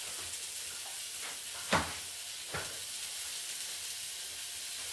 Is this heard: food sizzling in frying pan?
yes